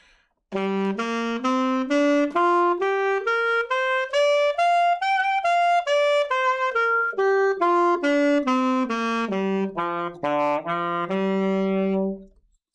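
A single melodic instrument plays a scale, stepping steadily from a low note up to a high peak and back down again, clear and alone.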